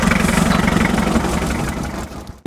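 A starter motor drives the oil pump on a hydraulic dump pickup, a loud, close, steady mechanical whir and hum with a droning low tone that runs on, then cuts off abruptly at the end.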